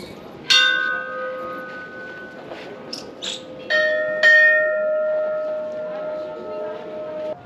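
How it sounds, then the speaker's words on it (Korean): Temple bells ring at Jodhpur, India, with several clear metallic strikes that decay slowly, heard moderately close over outdoor ambience and faint background chatter. "간간이 종소리가 들리는 게"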